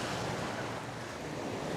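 Sea waves wash onto a beach in India with a steady, broad surf roar mixed with wind, moderately faint and continuous.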